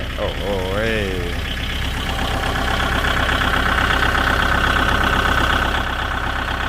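A Kubota engine idles steadily and loudly close by, a constant low rumble held throughout, with a brief rising tonal sweep near the start over the running engine.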